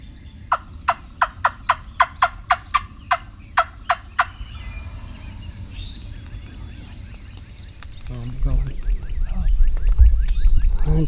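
A wild turkey gobbler on late-season public land gives a quick series of about ten sharp, evenly spaced gobbles. Then quieter bird calls follow and a low rumbling rises near the end.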